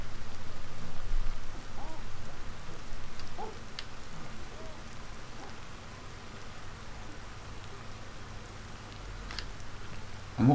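Rain in the video game Ancestors falls steadily as a dense hiss with scattered droplet ticks, moderately loud and continuous, with no speech.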